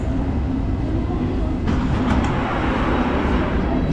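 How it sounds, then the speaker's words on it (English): A London Underground District line train rumbles loudly and steadily from inside the carriage, with a brief rattling surge partway through. "This is a district line train to Upminster."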